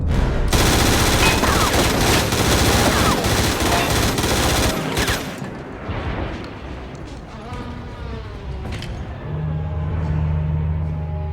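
Automatic weapon fire in a Stargate SG-1 scene, dense loud bursts of rapid shots for about five seconds, then scattered echoing shots and clatter fading into a low rumble and hum.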